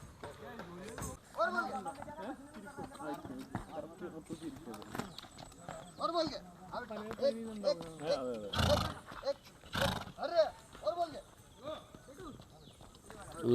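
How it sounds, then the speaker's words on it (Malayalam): A dancing horse of the Pushkar breed on a farm in Malappuram stamps with a few sharp hoof clops, mostly in the latter half, while people talk loudly and continuously over it. "അടിപൊളിയായിട്ട് സ്റ്റെപ്പ് വെക്കണ്ട കേട്ടോ കുതിര"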